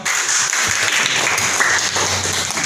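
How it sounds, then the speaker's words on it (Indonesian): A class gives a student a round of applause. Dense, continuous clapping from many hands runs loud and steady throughout, close by. "Kasih tepuk tangan dong"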